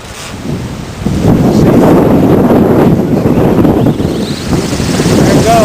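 Strong wind gusts roar across the microphone outdoors at night around a Savonius wind turbine, a steady loud rush building after the first second and holding with turbulent buffeting.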